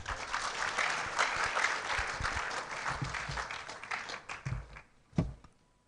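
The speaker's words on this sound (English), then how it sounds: "Clap for him." A hall full of freshers claps for a university dean of science and technology education at an orientation ceremony. The applause is dense and steady for about five seconds, then thins out, with a last few scattered claps.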